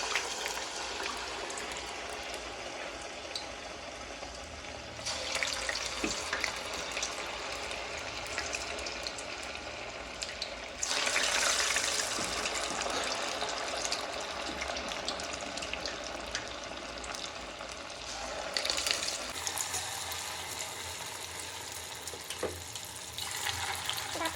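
Punugulu batter deep-frying in a pan of hot oil, a dense, continuous bubbling sizzle heard up close for the whole stretch, rising and easing slightly as more batter goes in, with no talk.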